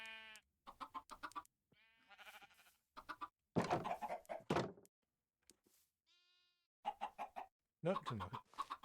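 Minecraft chickens in a hen house let out short bursts of clucking and squawks in separate clusters, some louder and closer, with quiet gaps between them.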